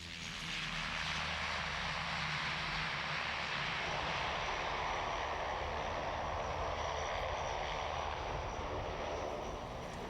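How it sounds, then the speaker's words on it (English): An An-26 propeller mail plane drones steadily and loudly throughout as it lands, its engine roar filling the air as it comes in close. "Meanwhile, outside, the mail plane is landing, an AN-26."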